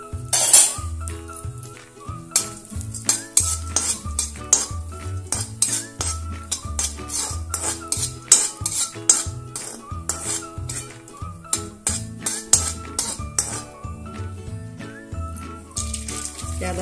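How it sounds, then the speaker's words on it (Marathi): Pistachios are roasted in a pan while a spoon stirs them, giving rhythmic clinks and scrapes of metal on metal. The stirring continues steadily, close up, with no talking. "पिस्ता आता परतून घेते"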